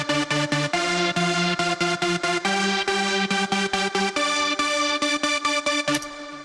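The Get Me High Saw preset of the Logic Pro X ES2 synth plays a loud, buzzy distorted saw tone in rapid rhythmic staccato stabs, shifting pitch every few bars before fading at the end.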